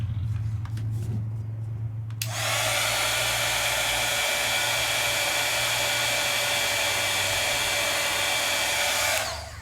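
A heat tool blows steadily on watercolor paper for about seven seconds, starting abruptly after a quieter moment with a low hum, loud and close, then cutting off at the end.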